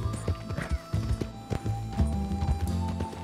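Horse hooves clip-clop in an irregular trotting rhythm in the Western video game Red Dead Redemption 2, close and moderately loud, with soft rattles of tack between steps.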